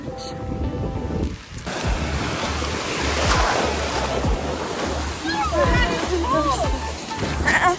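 Ocean waves wash continuously at a beach, a broad steady surf roar with wind buffeting the microphone, while people talk and a voice rises over it.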